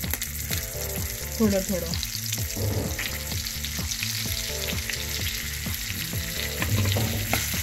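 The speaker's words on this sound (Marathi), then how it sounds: "आणि मंद आचेवर ह्या मिरच्या थोडा वेळ भाजू द्यायच्या" Stuffed green chillies frying in oil over a low flame, a continuous crackling sizzle with occasional stirring clinks; a voice speaks briefly over the sizzle.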